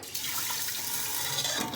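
Water pours steadily into a cooking pot for tomato rice to go with chicken in red sauce, a continuous close splashing rush with no talk over it.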